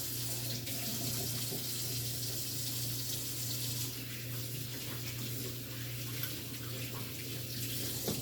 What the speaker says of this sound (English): Let me wash my hands, and I'm going to put the scissors in the sink